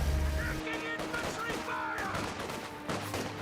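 Gunfire in the strategy game Company of Heroes 2, with a dense burst of rapid shots and crackling battle noise under a commentator's continuous talk.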